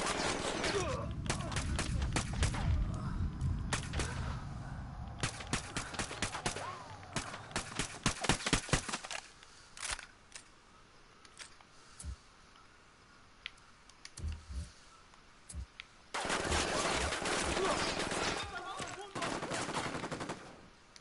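Gunfire in the tactical shooter game Ghost Recon Wildlands: loud bursts of automatic rifle fire and single shots, then a quieter stretch of sporadic pops before another sustained volley, with brief radio-style voices.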